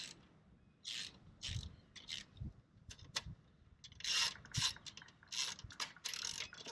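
11mm nuts being tightened with a ratchet wrench while a clay pigeon thrower is assembled, a series of quiet ratcheting clicks and scrapes in short bursts separated by pauses, nearby and without talk.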